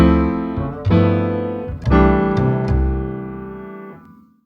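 Jazz piano one-hand voicings moving through a II–V–I progression in major, three sustained chords struck in turn, each ringing out, the last fading to silence.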